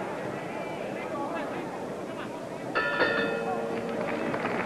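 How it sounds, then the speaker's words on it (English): Boxing ring bell at a 1966 Las Vegas title fight closes round nine. A few bright clangs ring out over constant crowd roar and a ringside commentator talking. "that's the bell for round 9"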